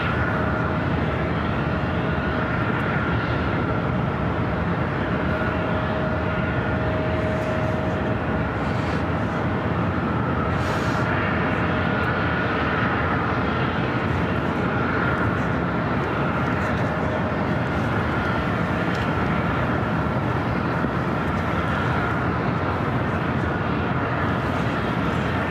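A Southwest Airlines Boeing 737 arriving from San Jose lands on runway 24 right at LAX, its engines a steady, loud broadband roar with a faint tonal whine running throughout.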